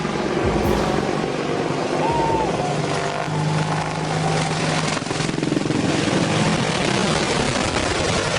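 An AH-64 Apache Army helicopter flying nearby, giving a loud, steady roar of rotor and engine noise that runs without a break for the whole stretch, with no voices.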